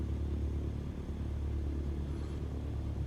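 A light aircraft taxiing on throttle in Microsoft Flight Simulator gives off a steady low engine rumble and drone, even and unbroken, with no voices.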